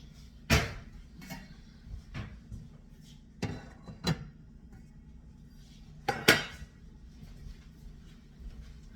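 Metal pots and pans clatter and clank as a pan is pulled out in a home kitchen, with several sharp separate bangs and some cutlery-like rattles spread across the stretch, over a low background hum.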